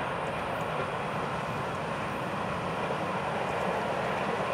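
Florida East Coast Railway train 101 passes on the main line near milepost 236. A loud, steady, broadband rumble and rush of rolling wagons comes from close by and holds throughout.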